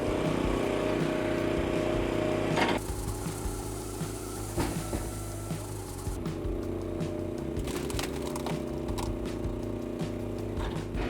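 A Red Runner Standard XL firewood processor and log splitter runs with a continuous engine drone, broken by sharp knocks and shifts in tone as wood is handled. No voices are heard.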